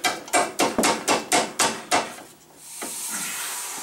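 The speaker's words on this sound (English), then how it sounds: "I had to tap a little here on the bolt, but don't tap too hard because you'll booger the threads." Seven sharp, evenly spaced metallic taps on a ball joint bolt during an upper ball joint replacement on a GMC Envoy/Chevrolet Trailblazer, close and loud, followed by a brief hiss.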